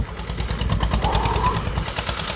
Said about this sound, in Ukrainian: Ось Саня заводить у нас